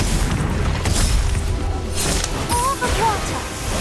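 A fire spell blasts in Harry Potter: Magic Awakened, a loud whooshing burst of flame amid continuous game effects, with a voice speaking over it.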